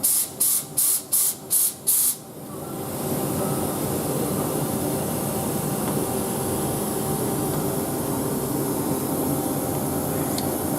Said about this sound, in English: give it some rapid plunges, sending air through the tube, the hose, the pump, the gun